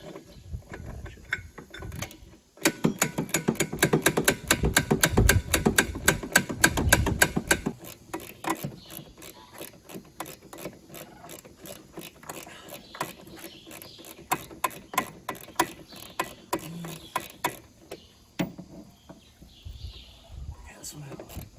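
A hand ratchet loosens clutch nuts on an old Yamaha snowmobile, rapid close clicking in a dense burst for about five seconds, then slower, intermittent clicks and pauses with other handling noise.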